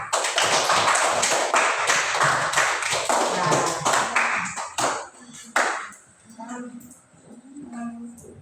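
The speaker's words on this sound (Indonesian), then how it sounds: "tepuk tangan untuk kita semua" Children clap their hands together in a classroom, a dense burst of claps for about five seconds that quickly thins out and fades, with a few scattered voices talking afterward.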